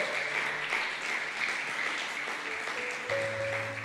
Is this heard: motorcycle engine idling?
no